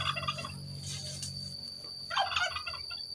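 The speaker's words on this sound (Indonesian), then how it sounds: "Ada ayam kalkun ya." A turkey gobbles close by at a remote rural house, two rapid rattling gobbles in quick succession over a steady background hum.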